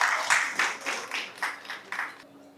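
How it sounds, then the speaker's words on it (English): Audience applause welcoming a speaker to the stage at an investment event, heard as a moderate burst of clapping that pulses in uneven waves and fades slightly toward the end. "With a huge round of applause, please let's welcome Anil Goyal sir to the stage."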